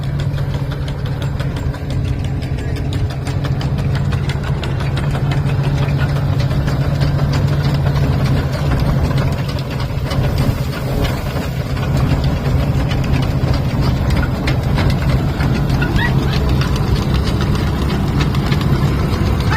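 Vintage thresher running, driven by a Fordson Major tractor at a vintage vehicle show, a loud steady mechanical drone with a low engine throb and rapid knocking rhythm throughout, no voices.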